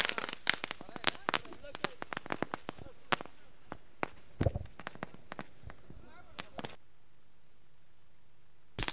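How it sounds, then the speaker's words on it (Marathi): Firecrackers burst in a rapid string of sharp, loud cracks at a village cricket match welcome, the popping dense for about six seconds before stopping abruptly, with an announcer's voice heard over the bangs. "फटाक्यांची आतिषबाजी"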